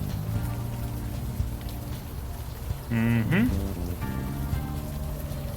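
Steady rainfall patters throughout a scene in the adventure game Unavowed, a soft continuous hiss with low musical tones beneath, while a brief voiced murmur and a short rising tonal sound rise over it midway.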